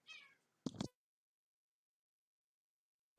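A cat meows once, close and clear, then gives a second short, sharp meow. Near-silence follows, and another faint sound begins at the very end.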